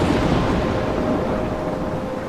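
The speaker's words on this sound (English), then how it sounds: "I'm trapped in a storm." Steady roaring storm rumble in the video game Life is Strange, a broad, dense wash of wind and rain with deep thunder-like noise, loud and continuous throughout with no voices.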